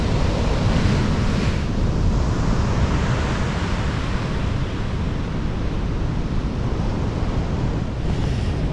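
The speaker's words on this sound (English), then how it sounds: "look at the waves in there" Ocean surf surges at Praia de Adraga on the Portuguese coast as a steady, heavy roar of waves. Strong wind buffets the microphone throughout, and there is no talk.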